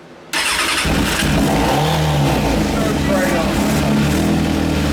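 An engine that sat dormant for four years cranks and catches after a brief quiet moment, then runs loud and rough close by with uneven revving, as people talk over it.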